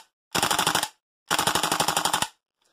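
Tokyo Marui Type 89 airsoft gas blowback rifle firing two loud full-auto bursts, each a rapid, even string of sharp pops lasting about half a second to a second, separated by a brief pause, with no talking.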